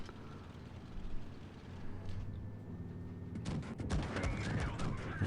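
Tank cannon fire from a Covenanter, a tier 4 British light tank in World of Tanks Blitz, a burst of sharp, loud shots and impacts arriving after a quieter stretch of rumbling engine and ambient battle noise.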